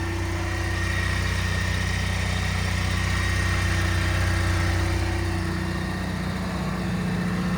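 A 2006 Burgman 650 motor scooter with stock exhaust idles with a steady, low hum throughout, smooth and even with a faint vibration, close by and with no voices over it.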